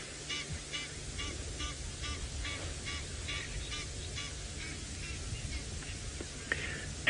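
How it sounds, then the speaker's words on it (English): A pair of Egyptian geese flying on a safari drive give repeated rhythmic honking calls, fairly faint and distant, over low vehicle rumble, with a sharp knock at the very end. "on your screen, you can see some beautiful Egyptian geese flying there"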